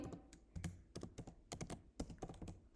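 Quick bursts of clacking on a computer keyboard, keys struck in an irregular run at a soft, close level with no one speaking.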